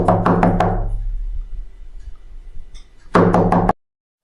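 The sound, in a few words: knocking on a door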